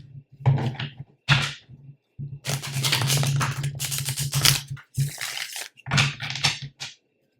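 A deck of tarot cards being shuffled in several bursts of brisk riffling and slapping, close up, with short pauses between rounds.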